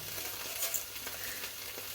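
Steady, dense sizzling of food frying in a hot pan, a continuous crackling hiss with small pops, close and fairly loud, with no talking.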